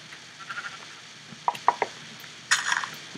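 Sheep in the video game Minecraft, a few short bleats spaced across the clip, followed by a brighter burst of bleating near the end, fairly close over a quiet background with no speech.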